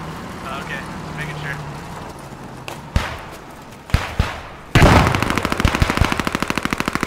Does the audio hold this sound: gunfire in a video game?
yes